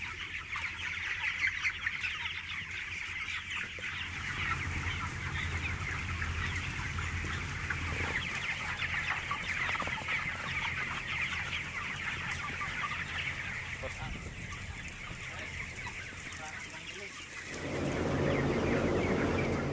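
Broiler chickens in a poultry house cluck and chatter as a dense, continuous crowd, with a steady ventilation hum underneath and a louder rush of noise near the end; no one speaks.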